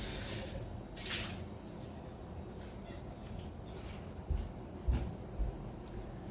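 Water sloshes and drips while a bottle that held a little wine is rinsed, a continuous close wet swirl with a few sharper splashes and knocks toward the end.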